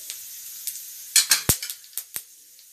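Whole nigella seeds, cumin and bay leaves crackle and sizzle in hot oil for a Bengali masoor dal with drumsticks, a string of sharp close pops and spits over a soft steady fry, with no talking.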